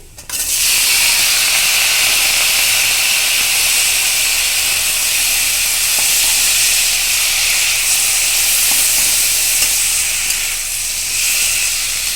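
Greens added to a hot pan of oil in a home kitchen, erupting into a loud, steady, bright sizzling hiss that holds at full strength for about twelve seconds, close up and without talking.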